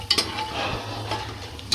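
Onions frying in a pan while being stirred, with a steady low sizzle and a few sharp scrapes of a utensil against the pan, close and fairly quiet, with no talking.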